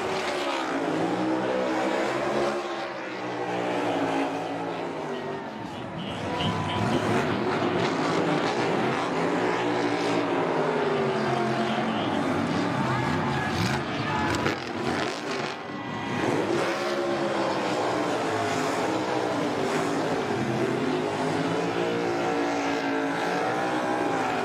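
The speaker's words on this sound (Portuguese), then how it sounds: "Olha lá como chegou o carro do Byron, com os dois pneus do lado direito furados." NASCAR Cup Series stock cars at Darlington roar continuously on the final lap, engines revving and howling past, a dense loud wall of motor noise with shifting pitch.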